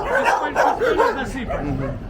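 Dogs bark, yip and whimper up close in a rapid, uneven run of calls during a humanitarian animal-feeding mission in eastern Ukraine, with voices mixed in.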